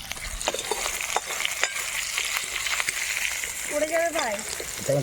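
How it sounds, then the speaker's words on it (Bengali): Crabs frying red in hot oil in a village kitchen, a steady close sizzle with scattered crackles and pops running throughout, a brief voice-like tone near the end. "কাঁকড়াগুলোকে সুন্দর লাল লাল ভেজে নিয়েছি এবার তুলে নেবো"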